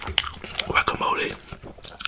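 Close-miked ASMR eating of guacamole made with fresh garlic, with soft wet bites and chewing bursts over about two seconds and some breathy whispery noise between them.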